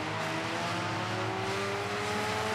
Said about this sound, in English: Only a couple laps left in the skid car race.